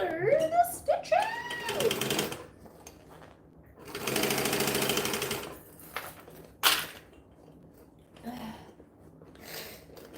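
Sewing machine stitching fabric for a handmade troll, short bursts of rapid mechanical chatter between pauses, with a voice talking at the start.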